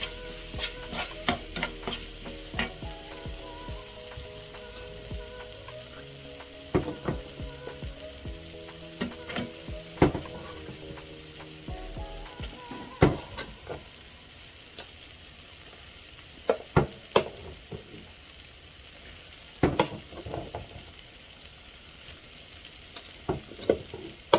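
Rice being fried for fried rice hisses steadily in a pan, punctuated by many sharp clanks and scrapes of a spatula stirring against the metal, close by, with irregular bursts of louder strokes.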